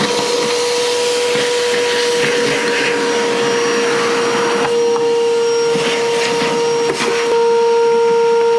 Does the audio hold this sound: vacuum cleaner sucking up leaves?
yes